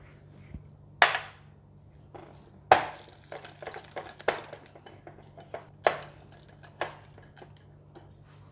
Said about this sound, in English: So we're going to whisk it.